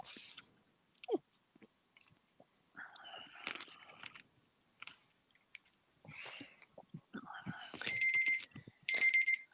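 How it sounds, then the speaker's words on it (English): Alarm clock beeping in bursts of electronic tone, most distinct near the end, amid whispering, chewing sounds and soft talk in a quiet room. "Whose alarm? Mine. No. Ah, I turned it off."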